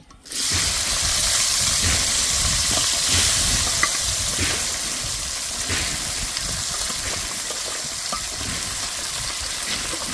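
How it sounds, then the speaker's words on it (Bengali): Unboiled raw jackfruit pieces frying in a pan for a chicken curry, with a loud, continuous hiss and sizzle that starts abruptly and holds steady, with faint stirring clicks under it. "এঁচড়গুলো কিন্তু আমি সেদ্ধ করিনি, ভালো করে ভেজে দেব।"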